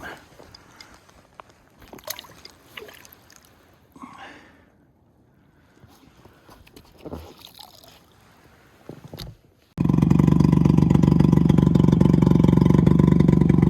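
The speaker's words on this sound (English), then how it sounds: "Had to start the motor." An outboard motor on a small fishing boat starts abruptly and runs loud and steady close by, after a stretch of quiet water splashing and handling noises.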